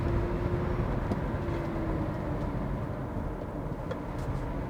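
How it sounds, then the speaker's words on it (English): Wind and road noise in the cabin of a Kia Niro Plus driving at speed, a steady broadband rush around the A-pillar with a low rumble underneath, constant and moderately loud. "if you start to drive a bit quickly, you hear more noise coming from the A-pillar"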